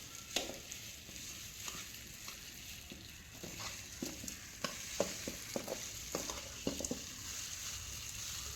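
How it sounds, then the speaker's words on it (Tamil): Ingredients for uppu urundai being sautéed in a pan: a faint, steady sizzle with scattered light scrapes and taps of a spatula stirring, quiet and alone without talk. "இந்த மாதிரி நம்ம வதக்கிட்டோம்னா வெந்த மாதிரியும் இருக்கும்."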